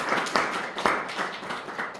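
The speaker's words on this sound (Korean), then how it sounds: "우리 하나님께 크게 박수로 영광 돌리겠습니다." A church congregation claps together in a brief burst of rhythmic applause, roughly steady claps repeating about every half second, fairly close and alone without talk.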